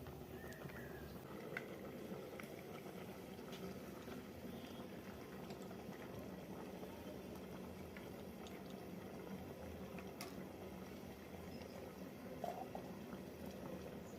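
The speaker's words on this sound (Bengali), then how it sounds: "আমি ঢাকনা খুলছি ফুটে গেছে" Milk boils in a covered pot for a helencha greens dish: a steady, dense bubbling and simmering that holds an even level throughout, with no voices.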